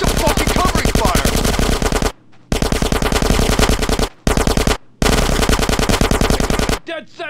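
Loud rapid automatic gunfire from the video game GTA San Andreas, sustained bursts with short pauses between them, close and dominant.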